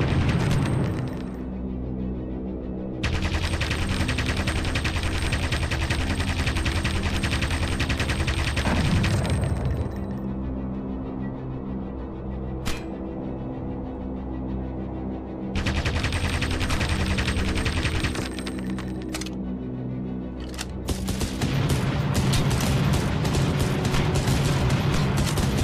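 Sustained aircraft machine-gun fire in the Aviators PC combat flight game, loud dense bursts in several long stretches with short pauses between, over a steady engine drone.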